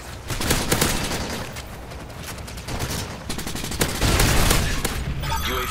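Gunfire in Call of Duty MW3 hitting the player, rapid bursts of automatic shots crackling over a constant loud game din, with several sharp volleys spread across the stretch; no talking.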